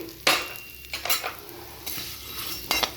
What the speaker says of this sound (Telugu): ఈ ఆయిల్లో కొంచెము ఈ బ్యాంబినో వేసి వేయించుకోవాలండి.